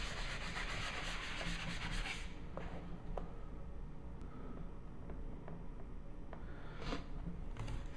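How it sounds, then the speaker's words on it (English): A Mr. Clean Magic Eraser rubbed against a Glock pistol gives close, faint scrubbing and rubbing strokes with a few light clicks, quiet and without any talking. "So here it is, Mr. Clean Magic Eraser."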